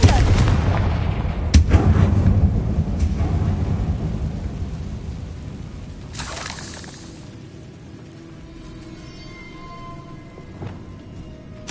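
A booming blast from the Confringo spell in a Harry Potter video game, a heavy low rumble that rolls and slowly fades, followed by a brief noisy burst and a quieter tail.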